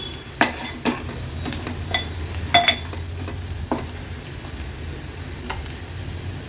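Turmeric and homemade Agri Koli masala sauté with onions in oil for a catfish egg curry, a soft low sizzle broken by sharp intermittent clinks and scrapes of a spoon against the pan.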